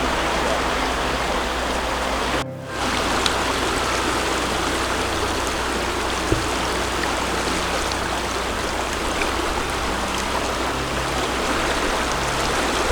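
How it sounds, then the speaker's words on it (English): The Talkeetna River in Alaska rushes by in a steady broadband roar, close and constant, with a brief dropout early on. "That river is moving on."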